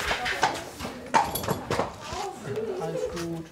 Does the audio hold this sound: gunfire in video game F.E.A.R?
no